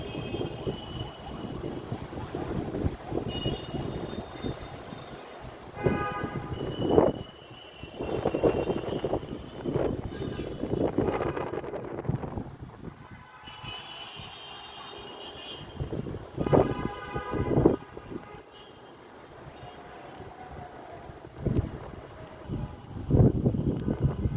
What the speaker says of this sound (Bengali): প্রচন্ড বাতাস বইতেছে, প্রচন্ড বাতাস